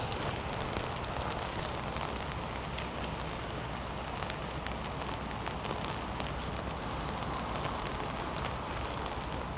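Rain falling steadily in Leeds as people jog past, a dense, constant hiss of drops on surfaces close by, with no talk.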